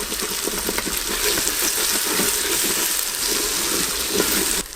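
Onions frying in an Instant Pot produce a dense, continuous sizzle and bubbling hiss with small irregular crackles, close and fairly loud.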